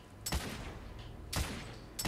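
Gunfire in the Victorian-era shooter video game The Order: 1886, three heavy spaced shots about a second apart, each with a booming echoing tail, loud and near.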